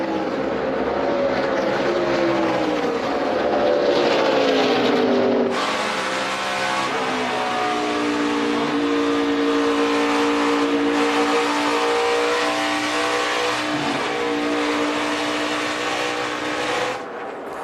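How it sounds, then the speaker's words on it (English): A NASCAR Nationwide Series stock car at Darlington Raceway, its engine roaring loud and close as the driver works the throttle, pitch sliding up and down through repeated revs with a sudden shift midway, continuous with no talk. "you can just hear Kyle Larson working that throttle, isn't he"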